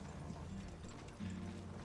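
Horse hooves clip-clopping in a fantasy drama battle scene, a steady run of close, dull knocks over a low rumbling score, with no talking.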